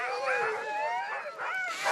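Several sled dogs whine and yelp in high, wavering cries, eager and restless just before a dog-sled ride in the Jura mountains, the calls overlapping continuously at close range.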